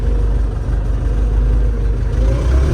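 A YUMZ-6 tractor pulling a PLN-3-35 plow runs close by with a loud, steady low engine drone that swells slightly under throttle.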